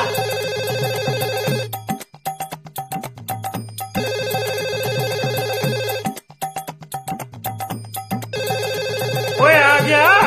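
A telephone rings loudly with a bright electronic ringtone, repeating in bursts separated by short gaps, with a rising melodic tone near the end.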